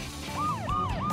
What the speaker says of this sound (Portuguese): Aí vem a ambulância.